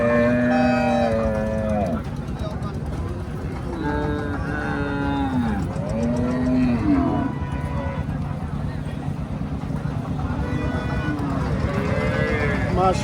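Friesian cows and calves at a cattle market mooing repeatedly, several long, drawn-out calls from nearby animals over steady background noise and wind.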